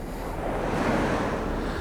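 Sea waves roll onto Eastney Beach in a continuous soft wash of surf, with gusty wind buffeting close to the microphone.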